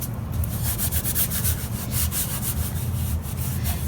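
Continuous brisk rubbing of the dry end of a cloth over wood, a close, steady rhythmic swishing with no pauses or talk.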